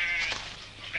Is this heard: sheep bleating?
yes